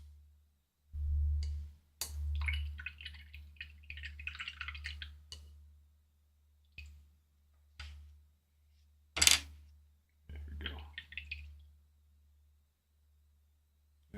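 A paintbrush rinsed in a water pot while painting a miniature model: intermittent swishing and dripping bursts with sharp taps against the container, quiet and close, separated by silent pauses.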